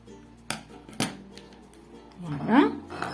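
Scissors snip knitting yarn during a French knitting (tricotin) craft project: two crisp, close cuts about half a second apart, followed by a short voice near the end.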